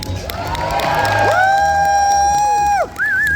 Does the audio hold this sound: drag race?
no